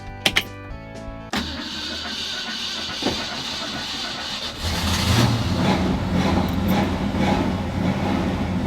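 A 1965 Ford Fairlane 500 sports coupe turns over: a few sharp starter cranks, a catch, then the V8 settles into a steady, fairly loud idle that rumbles on with slight unevenness.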